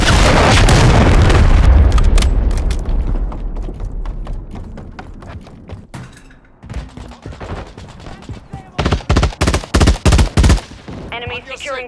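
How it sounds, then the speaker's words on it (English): Cruise missile explosions and gunfire ring out on the Highrise map in Call of Duty MW3 Domination, a huge rumbling blast followed by scattered shots and rapid bursts from a Fennec 45 submachine gun, loud and close. "Hostile cruise missile incoming."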